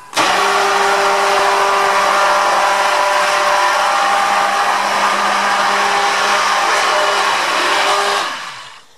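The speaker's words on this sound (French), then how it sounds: "Nous allons utiliser le mixeur pour mélanger." Electric hand mixer whirring steadily at high speed while blending homemade African black soap, a loud continuous motor drone with a faint tonal hum that runs unbroken for about eight seconds before winding down and stopping.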